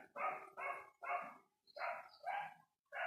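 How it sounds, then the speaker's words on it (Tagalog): A neighbour's dog barks repeatedly in short bursts, about six barks at a steady rhythm, fairly close and loud, with a faint higher chirp between them. "ang ingay ng ating aso, ng aso ng kapitbahay"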